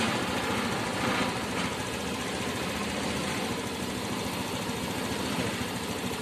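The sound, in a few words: Honda motorcycle engine idling at about 1500 RPM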